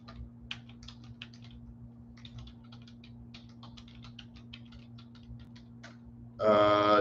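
Fingers tap on a computer keyboard in quick, irregular bursts over a steady low hum, and the keystrokes stay close and clear. A sudden louder rustle comes in at the very end.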